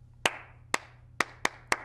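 Hands clap alone in a sparse, uneven rhythm during a children's song about a truck, five sharp, crisp claps close up with quiet gaps between them.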